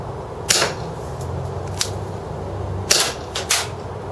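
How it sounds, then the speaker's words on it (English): A Marushin Derringer airsoft pistol fires sharp, light snaps, bottom barrel then upper. Four clicks come in two pairs about two seconds apart, close and clear over a low background hum. "this gun fires bottom barrel first, then upper barrel"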